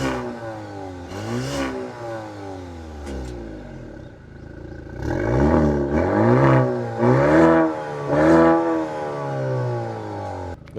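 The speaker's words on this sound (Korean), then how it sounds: "배기 소리도 한번 들어볼까요?" Maserati Grecale GT entry model revving while stationary, a series of rising and falling exhaust blips with a pause in the middle, the later revs longer and louder, with no talking over them.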